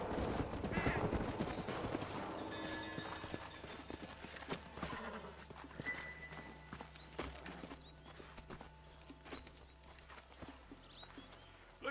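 Horses' hooves clip-clop steadily in the video game Red Dead Redemption, a quick irregular patter of hoofbeats over a low rumble and ambient game sound, moderately near and slowly easing.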